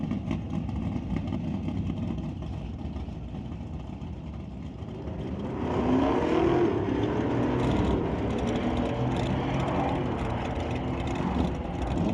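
A 2024 Ford F-150 truck runs at a drag race, its engine droning steadily and then swelling louder and rougher about halfway through as it accelerates, with crowd and track ambience around it and no talking.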